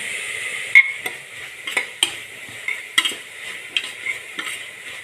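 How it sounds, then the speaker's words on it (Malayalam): Chicken frying with turmeric and curry leaves, stirred in a pan: a steady sizzle runs throughout, broken by repeated scraping and clinking of a utensil against the pan at a quick, uneven rhythm, close and clear. "ഇളക്കി കൊടുക്കാം മഞ്ഞൾപ്പൊടിയും കൂടി ഇട്ട് കൊടുത്തിട്ടുണ്ട് കറിവേപ്പില ഇട്ട് കൊടുക്കാം"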